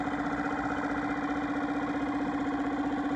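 A Yamaha 2.5 hp four-stroke outboard engine runs steadily with an even, buzzing mechanical drone and rapid pulsing, close and unbroken throughout.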